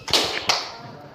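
A sharp hand clap rings out close and crisp, followed by a second fainter slap, then a quick fade into quiet.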